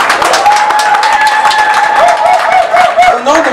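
Loud, close audience clapping with scattered cheers at a 2019 Côte d'Ivoire independence celebration in New York, steady throughout the short burst.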